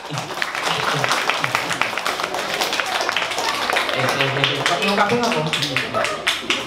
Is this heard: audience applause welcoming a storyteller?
yes